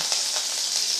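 Curry leaves crackle and sizzle in hot oil during tempering for a banana-flower kootu, after mustard seeds, urad dal and dried red chilies have gone in; a steady close hiss with faint pops, no talking.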